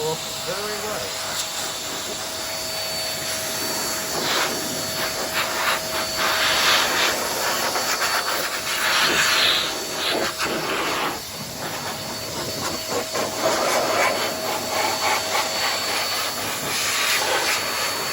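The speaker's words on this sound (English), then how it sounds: "it's just basically like a blow dryer technically" Steady broadband hiss of an air blower pushing water off a Kawasaki Z900RS motorcycle during a wash, continuous and fairly loud with slight surges in intensity throughout.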